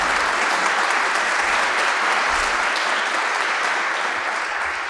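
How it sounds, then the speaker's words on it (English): Steady, dense applause from a debate audience fills the room at full volume, a continuous wash of many hands clapping without pause, easing off only slightly at the end. "If you could please give a round of applause for Mr."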